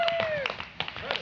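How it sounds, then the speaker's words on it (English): A small crowd at a Renaissance festival street show claps for a juggler, with a handful of scattered, uneven claps. A voice talks over them, and a thin whistling tone glides underneath. "One more round of applause for Bob,"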